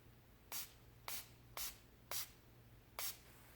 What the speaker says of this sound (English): So I'm just going to spray that everywhere.